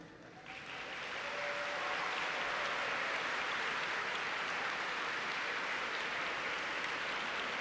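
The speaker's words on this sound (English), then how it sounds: "please join me in a round of applause for our veterans." Sustained round of applause from a graduation commencement audience honouring standing veterans, a broad even wash of clapping that swells in over the first second and holds steady, fairly distant and moderately quiet.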